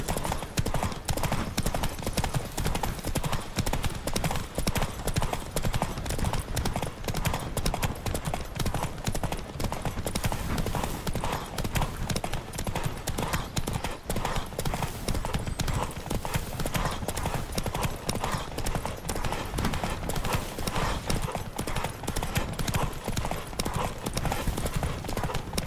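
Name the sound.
horse galloping in the video game The Witcher 3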